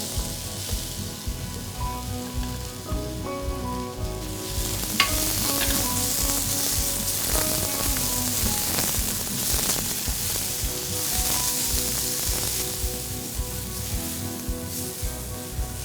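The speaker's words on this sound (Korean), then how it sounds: "식용유 아주 조금 두르고 오이 절인 걸 볶을게요" Salted cucumber, not squeezed dry, stir-fried in a pan with a little cooking oil over high heat, giving a loud, steady sizzle that runs on alone, with occasional scraping stirs on top.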